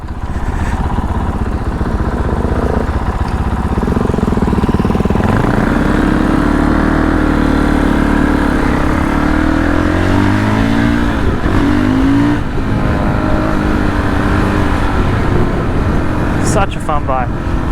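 Fantic Caballero 500 flat tracker motorcycle engine on a first ride, a loud continuous throaty drone that rises and falls with throttle and gear changes under heavy wind rush, with a rider talking over it.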